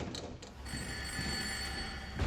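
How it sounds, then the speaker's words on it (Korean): An office telephone rings late at night, a faint electronic ring with a steady tone over quiet room noise, no voices. "그의 발길을 붙드는 한밤중의 전화벨 소리"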